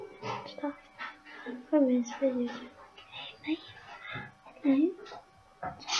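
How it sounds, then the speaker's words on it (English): A dog whimpers and yips in short high whines between whispered talk nearby, a few distinct rising cries scattered through the quiet room. "that's just my dog."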